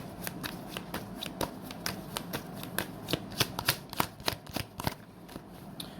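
Tarot cards are shuffled and drawn close up, a run of crisp, rapid riffling clicks and flicks that grow busier toward the end over a quiet background.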